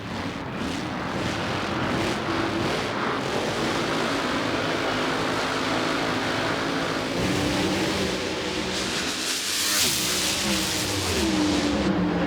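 A drag racing car launches and roars down the quarter mile at the Auto Club Finals in Pomona, California, a loud, continuous engine blast that holds steady and then fades as the car pulls away.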